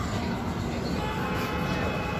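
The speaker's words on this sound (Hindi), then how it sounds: "अपनी ट्रेन डिपार्ट करती हुई इंदौर जंक्शन से" A Western Railway Avantika Express train pulls out of Indore Junction with a steady, loud rumble of wheels and carriages that holds without a break.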